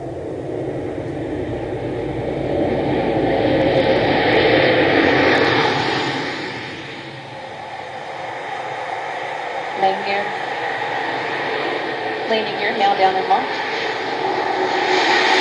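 Space Shuttle Discovery gliding in toward touchdown, a broad rushing aerodynamic roar that swells and fades with a few sharp knocks near the end, partly under a commentator's voice.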